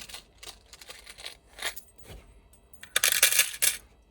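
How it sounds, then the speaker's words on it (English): Small metal dollhouse keys are picked up and handled, giving bright clinks and jingles in short irregular bursts, with a louder, busier cluster of clatter near the end. "Grabbing keys again."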